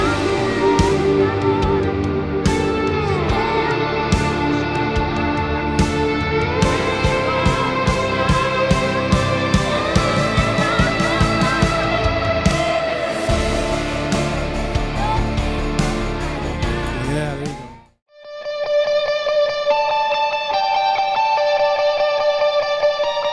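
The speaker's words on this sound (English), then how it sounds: "So let's put a slide in this particular pre-chorus." Yamaha Pacifica Standard Plus electric guitar played with a slide through distortion and effects, dense gliding notes and strums for about eighteen seconds, then a sudden break into sustained, clean, shimmering ambient tones.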